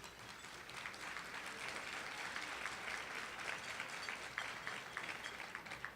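Applause from a large audience at a housing program symposium keynote, a steady wash of many hands clapping, fairly distant and uniform for the whole stretch.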